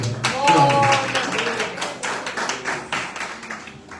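Congregation at an evening church service clapping hands in a steady stream of claps and taps, fairly close and loud, with some voices mixed in.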